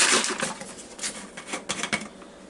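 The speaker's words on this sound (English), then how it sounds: "Shake it up pretty good." A lidded jar of mixed bouillon broth is shaken hard by hand, giving a close, loud run of rattling, sloshing bursts that fade into several separate shakes.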